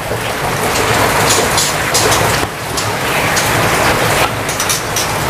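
Steady, loud rain pours down on an overcast late afternoon, a dense continuous hiss with brief splashy surges and no one speaking.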